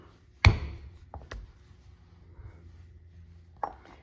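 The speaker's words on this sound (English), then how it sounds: "I fill in with my 2-tine chisel" A two-tine leather chisel is struck to punch stitch holes in leather: one sharp, loud knock, then a couple of lighter taps and a final crisp hit near the end, with quiet pauses between.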